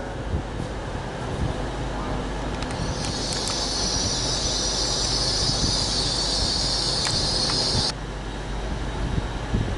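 Train standing at a platform in York railway station, a steady loud rumble with a bright hissing band that holds for several seconds and then cuts off abruptly, with station ambience throughout.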